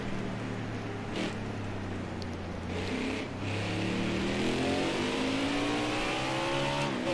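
Race cars in a racing video game lap Sonoma, their engines droning and revving with rising, shifting pitch as several cars run down the hill close by, loud and continuous with no talk.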